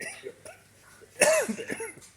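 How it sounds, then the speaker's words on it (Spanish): A person gives one harsh, close cough that breaks into a short rough tail, preceded by faint breathy noises. "no sé qué tengo, que me da tos"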